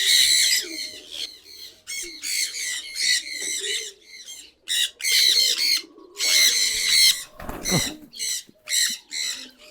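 Peacocks call near a pigeon loft in a series of loud, harsh, squawking bursts repeated through the stretch, with a brief dull thump partway through.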